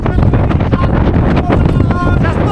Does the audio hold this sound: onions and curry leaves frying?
no